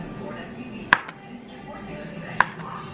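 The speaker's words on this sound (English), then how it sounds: "And I just cut these up in little circles here." A knife slices sausage into small rounds, giving two crisp, separate chops about a second and a half apart over a quiet room hum.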